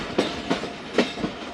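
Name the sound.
train moving along the rails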